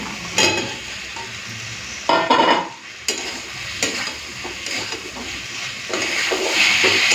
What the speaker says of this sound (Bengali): মশলাটা ভালো করে কষে নিয়েছি এখন ভেজে রাখা ডিম আর আলুটা দিয়ে দেবো